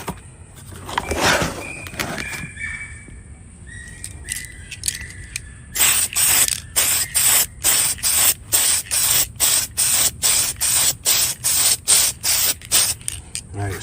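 Spray paint going onto a Mini Cooper model in light coats: after a few scattered clicks and handling noises, a long run of short, evenly spaced aerosol bursts hisses up close.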